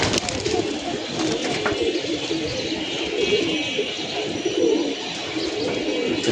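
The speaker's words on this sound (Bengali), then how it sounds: "মাশাআল্লাহ, কবুতরগুলো নেমে যাবে এখন, সব যার যার স্থানে চলে যাবে তাপ দিতে।" Pigeons settling back down to roost after a long flight, with a steady mix of cooing and bird calls filling the space at close range, continuous and busy throughout, no talking.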